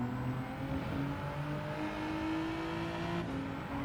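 Race car engine in the Gran Turismo video game during an online daily race, a loud continuous whine with steadily shifting pitch as the car accelerates and changes gear through corners, with no talk.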